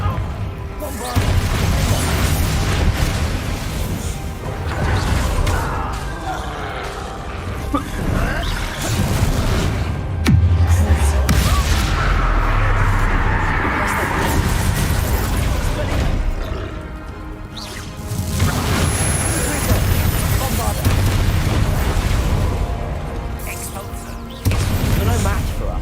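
Bombarda blasting spell and other combat spells in Hogwarts Legacy, heavy booms and crashing impacts that repeat through a loud, dense battle, with a voice calling out spells over the noise.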